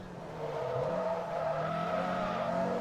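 A car's tires hiss and squeal in a steady, drawn-out skid as it oversteers in a Forza racing game, the engine droning loud and close beneath.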